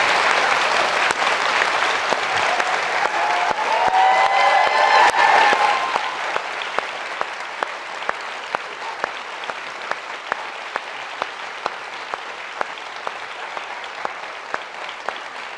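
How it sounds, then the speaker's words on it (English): An audience at a Georgetown Law School event bursts into dense, loud applause that holds for several seconds, then thins to scattered, sparse claps that linger and fade. "Well, a round of applause for that."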